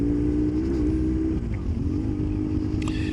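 Custom BMW R1150GS scrambler motorcycle engine droning steadily and close, a low rumbling throb that eases and picks up again as the bike cruises, with no talk over it.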